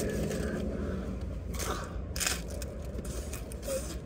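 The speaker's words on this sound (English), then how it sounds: "Yours has such a better crunch than mine" Someone bites into a crunchy Taco Bell taco, and the hard shell cracks and crunches in several close, crisp bursts of chewing over a few seconds.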